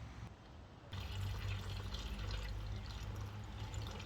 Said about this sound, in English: we're gonna go ahead and pour this up in the reservoir